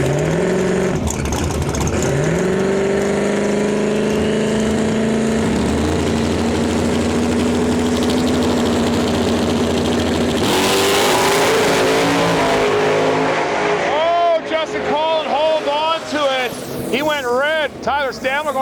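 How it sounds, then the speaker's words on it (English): Turbocharged and nitrous drag race cars roar off the line together, a loud sustained engine blast rising in pitch, then a sharp burst of high-revving noise before the sound drops to chattering, with an announcer talking throughout. "Hopefully this turbo car will put that nitrous car on the trailer and we'll move on to round two"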